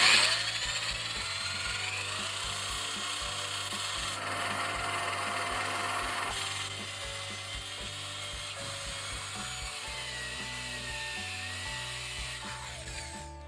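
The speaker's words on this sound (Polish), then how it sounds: "przykładamy do punktu środkowego tej powierzchni i włączamy wiertarkę" An electric drill bores a 22 mm hole, running steadily close by, a whirring, grinding drone that goes on for several seconds, pitch shifting slightly midway.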